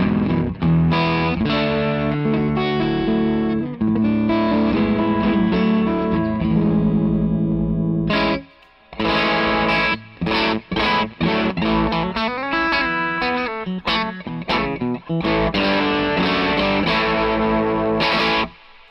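Electric guitar played through a Hudson Electronics Broadcast dual footswitch pedal with the low cut fully off, full-bodied driven chords ringing loudly, then a brief pause and choppier strummed passages, with no talk.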